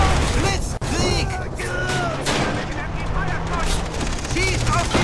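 Machine gun bursts in Far Cry 3 crackle through a busy battle mix with a sharp crack early on, while voice-like chatter runs underneath throughout.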